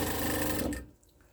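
A sewing machine stitches two pieces of quilt fabric together for a Christmas Trip Around the World quilt, a steady whirring run close up that stops abruptly after about a second, leaving quiet.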